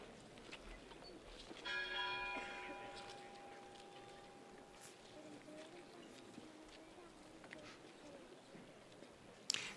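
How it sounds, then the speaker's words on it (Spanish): A temple church bell rings out alone during a Holy Week procession in Zamora, a few faint, distant resonant strikes with a lingering hum, under quiet outdoor ambience and low talk. "Se ha quedado sola la campana del templo."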